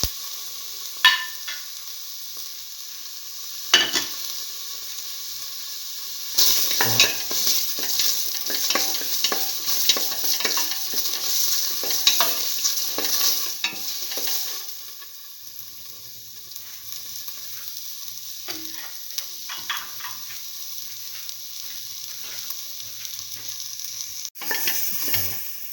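Tomato pieces, green chili and curry leaves hit hot oil in a pan with a loud burst of sizzling, and occasional stirring scrapes and clinks follow as the frying settles to a quieter hiss.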